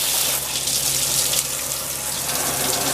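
Water sprays steadily from an Oxygenics RV shower head on a thick jet setting, a continuous close hiss and rush of spray with no voices.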